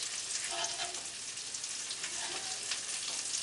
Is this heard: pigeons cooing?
no